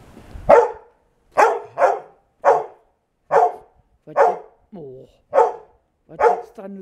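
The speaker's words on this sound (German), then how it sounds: "Was gibt's da nur zu bellen?" A dog barks over and over near the listener, about nine loud sharp barks in an uneven rhythm with brief silences between them.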